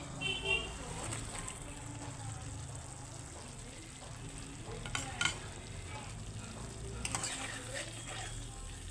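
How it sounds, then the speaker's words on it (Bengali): Prawns hit hot oil in a thick malai curry gravy and are stirred, a steady low sizzle with scraping spoon sounds and a few louder clatters, a voice faintly present underneath. "এবারে চিংড়ি মাছগুলো দিয়ে দিচ্ছি"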